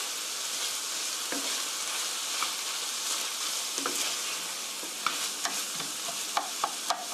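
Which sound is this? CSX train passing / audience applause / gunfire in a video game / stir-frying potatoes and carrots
stir-frying potatoes and carrots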